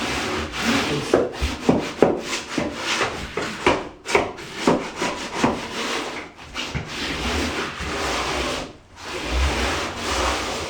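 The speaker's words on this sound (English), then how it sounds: "Your wooden trowel. Fold it right into that inset." A wooden trowel works mortar into a tile inset with repeated rough scraping and rubbing strokes, close and irregular, with brief pauses between passes.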